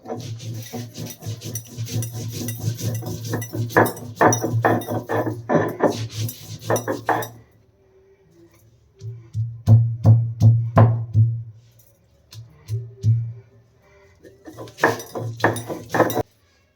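Mustard seeds, poppy seeds, salt and green chillies ground by hand on a stone slab, heard as close, rhythmic scraping and rubbing strokes in bursts with short pauses between them.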